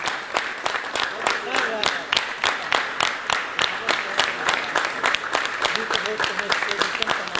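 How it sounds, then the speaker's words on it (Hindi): Audience applause at a poetry mushaira in Lahore, sharp rhythmic claps repeating steadily for several seconds, with a voice speaking over the clapping. "आप सबसे गुजारिश है कि भरपूर तालियों से नवाजें।"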